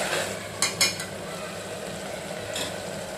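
Desi pasta with mixed herbs stir-fried in a pan over medium heat, a soft steady sizzle with a few light spoon clinks and scrapes, close but fairly quiet.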